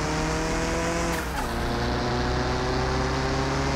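A V8 drag race car in Car Mechanic Simulator 2021 roars away at full throttle, a loud steady engine drone with a brief shift-like break partway through, no talking.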